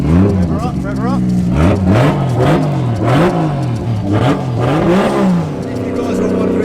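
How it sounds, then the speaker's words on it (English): Toyota JZX100 Mark II running a 2JZ/1JZ hybrid engine revs repeatedly on its first start, pitch rising and falling in quick loud blips over a steady idle, with voices talking underneath. "Rev her up."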